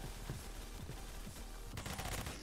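Rapid gunfire in the multiplayer shooter Phantom Forces, a fast volley of several quick shots at moderate level, followed by a denser burst near the end.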